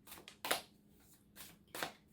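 A deck of Journey of Love tarot cards is shuffled by hand, giving several short, soft riffling bursts close to the listener against a quiet room.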